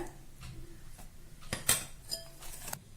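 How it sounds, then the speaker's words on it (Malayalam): Powdered sugar being mixed into eggless chocolate cake batter in a bowl, a few soft scrapes and light clinks of a spoon against the bowl, close and quiet, ending with a couple of sharper taps. "ഞാനെല്ലാം ഒന്ന് കുറേശ്ശെ ഇട്ടിട്ടൊന്ന് മിക്സ് ചെയ്തെടുക്കട്ടെ"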